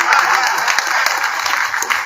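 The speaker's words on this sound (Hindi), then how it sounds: "तालियां बढ़िया से" Dense, steady audience applause fills a comedy poetry show in Kolkata, a loud continuous wash of many hands clapping at once with no break in its roar.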